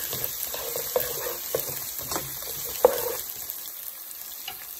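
Garlic, onion and ginger sauté in a pot as the base for chicken tinola, a soft steady sizzle broken by a few clinks and scrapes of a stirring spoon, close and without talking.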